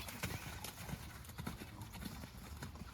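A trotting horse's hooves clip-clop in a steady, even rhythm at a riding clinic, fairly close, with ambient arena noise.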